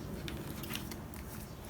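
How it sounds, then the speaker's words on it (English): Scissors trim the edge off paper junk-journal tags made from collages, a few short dry snips close by with no voices. "I'm just going to trim this off."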